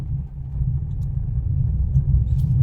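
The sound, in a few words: car driving during driving practice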